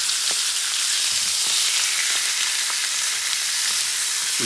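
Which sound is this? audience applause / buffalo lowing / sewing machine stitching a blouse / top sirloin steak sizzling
top sirloin steak sizzling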